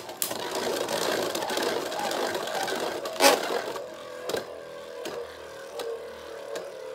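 Zest Achilles and Ultimate Valkyrie Beyblade tops spinning and clashing in a stadium, a steady whirring grind with a sharp impact clack midway and several fainter knocks as the battle settles.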